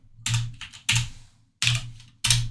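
A command is typed on a computer keyboard as four loud, separate bursts of key clatter, spaced roughly half a second apart with brief silences between them.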